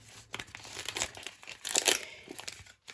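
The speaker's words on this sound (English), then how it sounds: "It peels off beautifully" Resin suncatcher peeling away from window film, giving a run of close crinkly, crackling bursts with short pauses, loudest toward the middle, and no talking.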